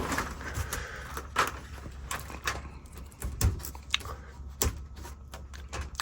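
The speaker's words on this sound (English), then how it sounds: "Close the door." A van door shuts at a rest stop in New Mexico, heard as a few soft, close thuds and clicks amid quiet background handling noise, with no talking.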